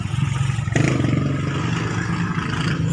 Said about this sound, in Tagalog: Ang ingay sa labas. Ang ingay na motor.